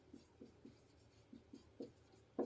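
Marker or chalk strokes on a board during a Hindi chemistry class on first-order reactions, a series of soft, faint taps and scratches spaced irregularly against a quiet background.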